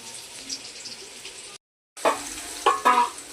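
Potatoes fry in a pan, a moderate sizzle broken by a brief silent cut, then resuming with clattering stirring and scraping sounds.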